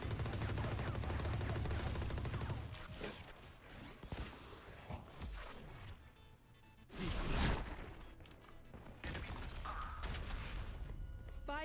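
Valorant gunfire from a first-person match comes as rapid bursts of shots and rattling automatic fire, with some whooshes and crashes between volleys. The shots sound fairly quiet overall.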